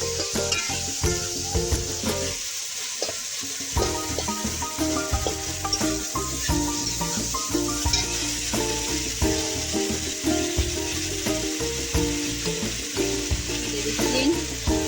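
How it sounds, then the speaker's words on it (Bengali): Ground spices with salt, turmeric, chili powder, bay leaf and cumin fry for chicken kosha, giving a steady close sizzle broken by frequent scraping stirs of the pan, with one brief lull early on. "এটাকে আমি লাল করে কষিয়ে নেবো।"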